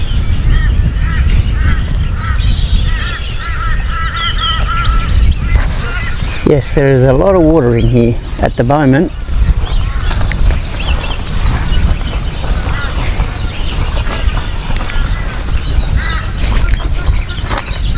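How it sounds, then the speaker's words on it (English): Ducks or geese honk and quack in the distance over steady wind noise, while a person speaks briefly in the middle. "Lots of birds flying around too"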